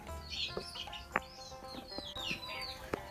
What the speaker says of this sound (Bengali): ভিতরে দুইটা মুরগি রাখা আছে